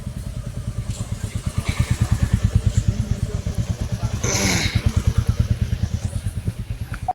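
A motorcycle engine runs close by in a village in Meghalaya, with a loud, steady chugging pulse that swells briefly midway and then settles back.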